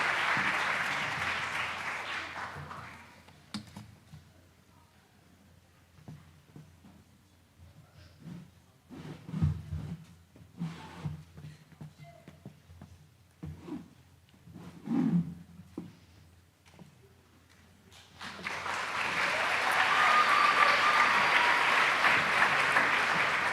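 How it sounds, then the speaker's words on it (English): Applause at an awards ceremony for honorees, a full room clapping loudly at first, fading to scattered sparse claps and shuffling, then swelling again into a sustained round of applause. "Please join me in a round of applause for these award honorees"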